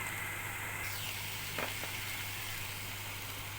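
Minced meat sizzling in a pan for lasagne, a soft, steady frying hiss at low volume with a brief stir-like scrape in the middle.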